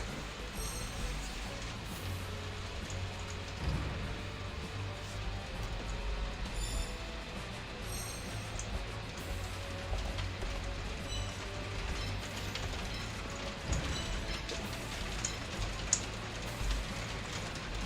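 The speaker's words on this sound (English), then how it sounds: "it's raining hard" Hard rain falls outside as a constant, even hiss with scattered drip taps, heard at low level from indoors without talk.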